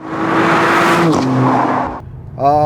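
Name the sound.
four-cylinder car engine revving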